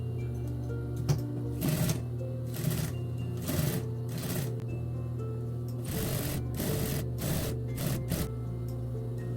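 A sewing machine stitches fabric for a homemade doo-rag head wrap in slow, uneven runs of rapid needle clatter broken by short pauses, heard close over a steady low motor hum with no talking.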